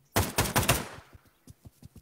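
A rapid burst of four loud gunshots in the VR shooter Pavlov, followed by several fainter, more distant shots spaced apart, with no talk.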